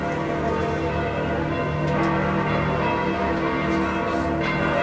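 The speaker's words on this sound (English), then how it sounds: "Oh, all the bells of St. Peter's, folks" Church bells of St. Peter's ringing out together in a continuous wash of overlapping peals, heard at a distance across an open square with faint crowd ambience beneath.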